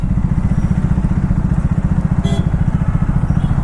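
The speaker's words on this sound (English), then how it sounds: "I am able to hear the exhaust note when I am driving this motorcycle" A Triumph Thruxton 400 motorcycle rides through city streets, its exhaust giving a steady, close, throbbing thump. A brief crackle cuts in partway through.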